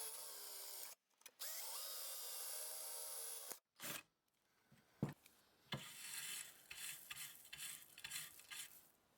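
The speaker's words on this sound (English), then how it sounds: "We'll use the chain drilling method on the bigger hole" A drill bores a series of holes into a metal end plate for a bench grinder, whining in bursts broken by short pauses and sharp knocks, then giving way to scraping, grinding chatter, fairly quiet overall.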